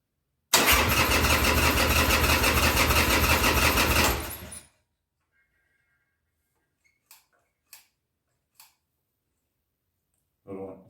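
A 2000 Harley-Davidson Sportster 1200C motorcycle, carbureted with the choke on, cranks and catches for about four seconds of loud, steady engine churn, then cuts out; a few faint clicks and ticks follow in the quiet.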